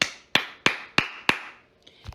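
A single person applauds nearby with five sharp, evenly timed claps, followed by a faint low thump and rustle.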